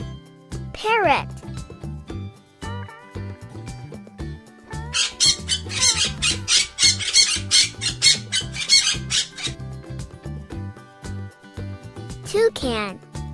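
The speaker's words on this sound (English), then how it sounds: "Parrot." A parrot squawks in a few harsh, rising calls at the start and end, with a rapid burst of chattering squawks in between, set over light background music.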